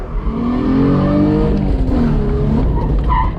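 A rental drift car skids with its handbrake pulled, tires squealing in long wavering howls over a loud engine drone, close and sustained for a few seconds before fading.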